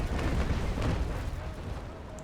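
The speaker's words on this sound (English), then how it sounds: "getting ready to broadside this Navy brig" Naval Action Legends broadside from a ship's cannons at a Navy brig: a dense rumbling roll of cannon fire and booms, loud and continuous for a couple of seconds, fading slightly at the end.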